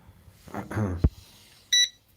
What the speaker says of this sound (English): No, that was beeping.